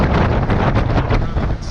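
Strong typhoon wind during Typhoon Prapiroon roars steadily and loudly against the microphone, a dense, unbroken rush with slight gusting throughout.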